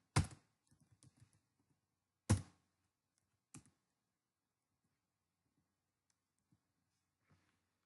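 Bursts of typing on a computer keyboard while writing jQuery code, a short cluster of clicks followed by a couple of isolated sharp key thunks, then near silence with faint taps.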